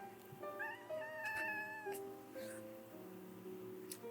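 Pet cats meowing indoors in a bedroom, a run of drawn-out, tonal meows that rise and fall, close and fairly clear, with short gaps between calls and no talking.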